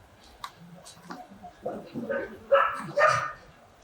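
Belgian Shepherd dogs bark in short, sharp bursts at an agility training session, the barks growing louder and closer toward the end over a faint, quiet background.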